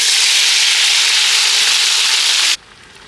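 Gongura leaves hit hot oil for village-style gongura chicken, a loud, dense, continuous sizzle that cuts off sharply near the end to a low residual hiss.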